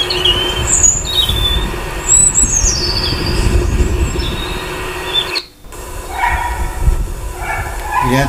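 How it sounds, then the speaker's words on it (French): A dog barks from below an outdoor spot in Île-de-France where birds gather, repeated barks heard at a distance over a continuous rumbling, rail-like background noise. "Il est intrigué par le chien qui aboie en bas."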